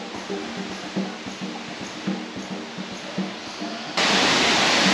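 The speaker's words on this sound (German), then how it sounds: "Da unten ist der Wasserfall." A waterfall in Grenada's Caribbean rainforest rushes as a steady broadband roar, distant at first and then suddenly much louder and closer near the end, with faint footsteps or movement in the foreground.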